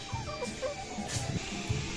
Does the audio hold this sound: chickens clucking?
yes